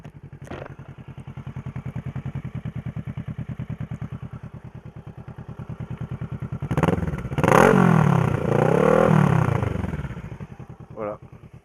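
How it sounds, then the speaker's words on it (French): A motorcycle idles close by with a steady, lumpy pulse, then is revved hard in two rising and falling surges before settling back, with a short thump at the end. "Bon, je vais vous faire écouter la moto, hein."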